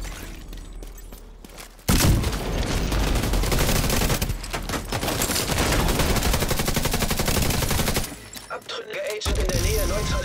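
Rapid gunfire in the video game The Division 2 on Xbox One, loud sustained bursts of automatic shots that start abruptly, carry on for several seconds, then drop away to quieter game sounds.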